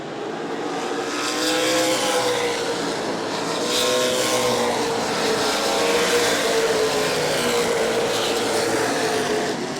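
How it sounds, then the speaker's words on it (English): Race cars roaring around the oval at New Smyrna Speedway, a loud sustained engine whine that swells and fades as the field passes, with no talk. "Alan Brunt going to work on car number 5"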